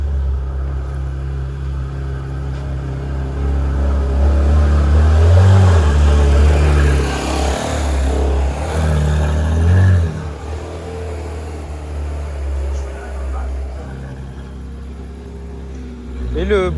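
A Porsche Taycan Turbo is backed up slowly, giving a steady low rumble and hum that swells midway and then settles, close by, while people talk in French nearby.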